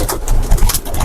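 Teddy pigeons cooing in a coop, soft repeated coos close by over a steady background rustle, no talk.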